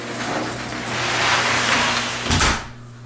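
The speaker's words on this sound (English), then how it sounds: "the garage door is closing." A garage door rumbles steadily as it closes, a low motor hum running underneath, then it settles with a solid thud near the end.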